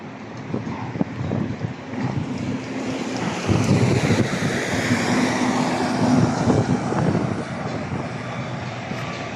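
Steady, loud wind roars and buffets the microphone throughout, with rumbling low gusts and no clear voices.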